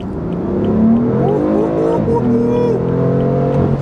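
A 2015 BMW M4 accelerates hard on an open road, its engine note climbing steadily in one loud, continuous pull with no talking over it.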